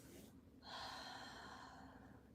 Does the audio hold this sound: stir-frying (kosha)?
no